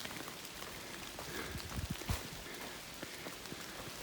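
Rain falls steadily in a tunnel along the Appalachian Trail, a dense, even patter with a few closer, heavier drips and thumps standing out, and no voices.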